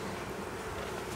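Honey bees buzzing in a steady, dense hum, close and continuous for about a second with no other sounds.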